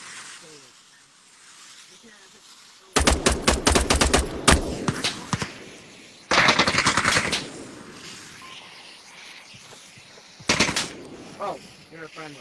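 Loud automatic gunfire in the VR shooter Onward, an uplink assault on a Nuketown-style map, comes in three dense bursts of rapid shots separated by quieter stretches with faint voices.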